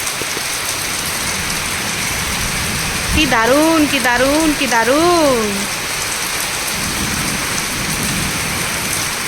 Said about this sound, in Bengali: বৃষ্টি বৃষ্টি এ কোন সৃষ্টি এত মিষ্টি মিষ্টি মিষ্টি